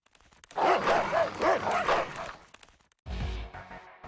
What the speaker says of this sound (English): The moment you hear the distant barking, your memories come flooding back.